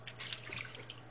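Water running steadily from a tap to fill a newborn's first bath, a faint, even splashing stream with no voices.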